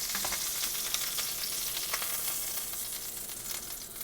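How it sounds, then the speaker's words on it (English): Pork tenderloin searing in hot oil gives a dense, continuous hiss with a crackle of small pops running throughout, steady and close, with no voices. "the other 2 pieces of pork tenderloin get seared the exact same way"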